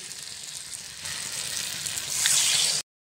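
Water goes into a hot pan of curry with boiled peas, the steady sizzle swelling into a louder rushing hiss before it cuts off abruptly.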